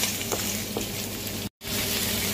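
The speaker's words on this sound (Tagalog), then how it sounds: "igisa na natin yung tinapa, bawang at saka luya" Smoked fish, garlic and ginger sautéing in a pan for pinakbet give off a steady hiss and sizzle with brief stirring scrapes, cut by a short silent gap near the end.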